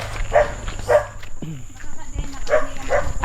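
A dog barks a few times, short sharp yaps spaced apart, with people talking nearby.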